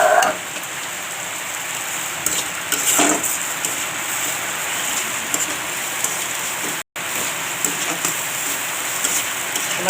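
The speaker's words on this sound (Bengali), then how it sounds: "বাইরে বৃষ্টি হচ্ছে বন্ধুরা, খুব জোরে বৃষ্টি হচ্ছে, আপনারা আওয়াজটা শুনতেই পাচ্ছেন।" Heavy rain falls steadily outside a kitchen, a loud continuous hiss of drops pattering on surfaces, with a brief dropout partway through and no talking.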